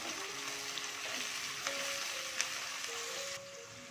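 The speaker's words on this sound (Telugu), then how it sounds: "మీరు ఆనియన్స్ మంచిగా ఫ్రై చేసుకోండి. మంచి రెడిష్ కలర్ వచ్చేలాగా ఫ్రై చేసుకోండి." Onions frying in a pan for chicken dum biryani, a soft continuous sizzle and crackle with occasional clinks of a stirring utensil, fairly quiet and without speech.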